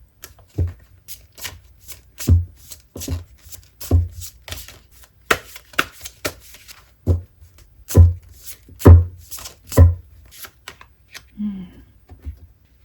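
Tarot cards are shuffled and drawn by hand, giving a run of close, crisp riffling slaps and flicks in an uneven rhythm, loud and dry, with no voice over them.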